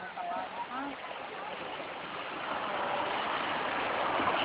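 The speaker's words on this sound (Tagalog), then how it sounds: "This is the rapids." Rushing river rapids on the Pagsanjan trip, a broad steady roar of flowing water that builds louder toward the end, with brief voices early on mixed into the noise.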